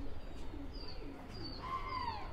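Soft, faint cooing comes from a large flock of several hundred pigeons, with a few gentle calls and wing rustles over a quiet background.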